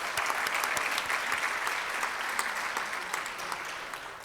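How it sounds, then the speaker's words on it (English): Audience applause at a Rotary club meeting, a steady wash of many hands clapping that holds level for a few seconds and then slowly fades, heard alone without talk. "Let's give him another round of applause."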